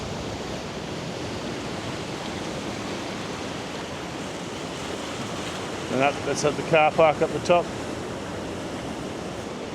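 Steady ocean surf rolls and washes continuously at a beach at sunrise, with a person speaking briefly partway through over the constant wave noise.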